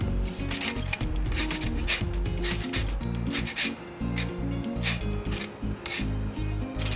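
A handheld zester rasps steadily across a lime's peel, giving continuous scratchy strokes in repeated passes, close and fairly loud, with brief pauses between strokes.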